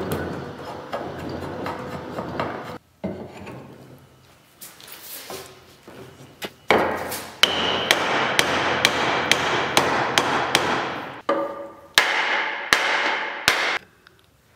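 Sharp chopping strikes of a mortise axe, bevel side down, trimming the edge of a timber-frame joint: a run of loud, evenly spaced hits, then a few more after a short pause, with no talking.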